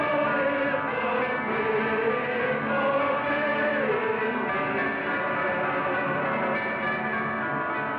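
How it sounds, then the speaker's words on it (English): Chiming bells open the orchestral score of the 1936 film Things to Come, sounding as a steady, loud, sustained ringing with no voices. "following the introduction of the chiming bells"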